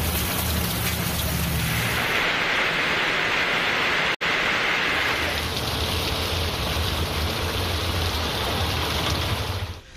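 Heavy rain driven by strong wind pours over the city streets of Tiruppur in the evening, a dense, steady hiss that fills the whole stretch with only a momentary break.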